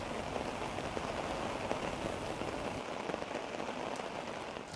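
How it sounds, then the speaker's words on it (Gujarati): Heavy monsoon rain showers fall across Surat neighbourhoods, a dense, steady wash of rain hammering surfaces nearby, easing slightly toward the end, with no one speaking. "સુરતના પીપલોદ, અડાજણ, અઠવા ગેટ સહિતના વિસ્તારોમાં ધોધમાર વરસાદ જોવા મળી રહ્યો છે।"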